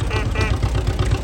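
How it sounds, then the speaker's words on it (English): A 1939 two-cylinder John Deere 'Johnny Popper' tractor engine rolling in an antique tractor show parade, giving a steady low chugging pulse close by with faint voices in the background. "Has a 2-cylinder Johnny Popper."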